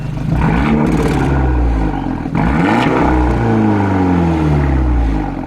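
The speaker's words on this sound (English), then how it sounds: "They've created the Monza exhaust down here, which sounds absolutely amazing." An Abarth 124 Spider with a 1.4 engine and a Monza quad exhaust revs loudly and close by outdoors on a farm, its note sweeping up and down through a couple of throaty rises over a steady idle.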